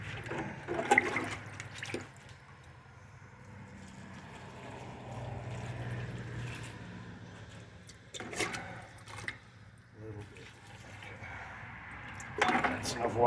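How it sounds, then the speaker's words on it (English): Water is poured onto freshly sown herb seeds in garden soil, a soft running splash that swells and fades in a few bursts, with a person speaking between the pours. "That's enough water to get those started."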